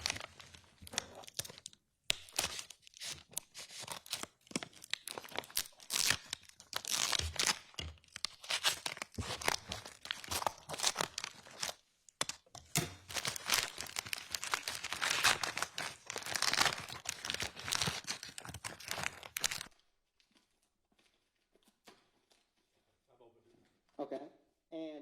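Scissors snip and tear open a plastic evidence bag during a police search warrant at a home, with crinkling and crunching handling noises running under steady talk before everything drops away.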